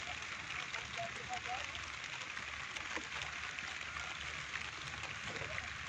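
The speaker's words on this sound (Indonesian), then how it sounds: "Walaupun hujan, apa boleh buat? Tadinya nggak hujan." Light drizzle falls over an outdoor chili field as a steady, even hiss that holds at one level throughout, soft and continuous with no distinct drops standing out.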